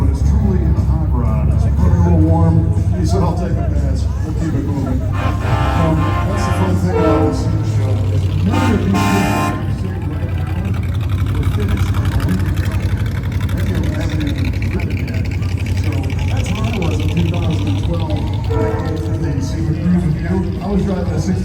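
A hot rod rumbles past during a SEMA car cruise, its loud, steady engine roar filling the scene with a broad, heavy drone while people talk over it.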